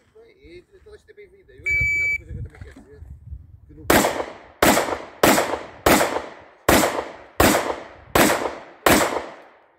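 Eight sharp, loud gunshots in a steady rhythm at an IPSC practical shooting course stage, each blast with a short decaying tail, preceded by a spoken range command and a beeping start signal.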